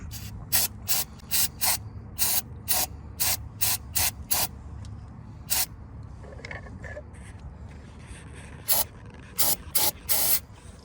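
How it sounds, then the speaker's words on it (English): Brake cleaner sprays onto the front wheel hub of a Chevy Express van in short loud hissing bursts, repeated in quick rhythmic runs with pauses, close up. "let's see if I can brake clean."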